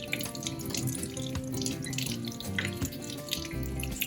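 A potato is scrubbed clean by hand under a running kitchen tap, water pouring steadily and close throughout with faint rubbing and splashing, no talk.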